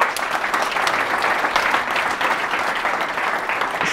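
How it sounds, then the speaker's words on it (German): A crowd at a German-language talk on storage utility tokens gives a dense, loud round of applause, sustained evenly throughout with no speech. "bitte Applaus"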